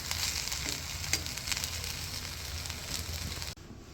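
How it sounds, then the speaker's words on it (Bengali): Fish frying in oil on a gas stove for fish bharta, a steady loud sizzle and crackle that continues evenly, then cuts off abruptly near the end. "আরেক গ্যাসে আমি মাছ ভর্তার জন্য মাছগুলো ভাজতেছি।"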